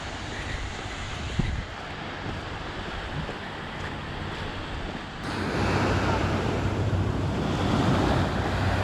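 Ocean waves surge and wash continuously onto Sand Beach in Acadia National Park, with wind buffeting the microphone. The surf swells louder partway through and a brief knock sounds early on.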